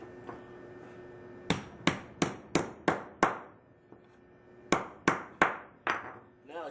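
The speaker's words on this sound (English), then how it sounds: "smash the end of each end down flat with our hammer" A hammer smashing the ends of a copper pipe flat: a quick run of six sharp metallic blows, a brief pause, then four more, loud and close against a quiet room.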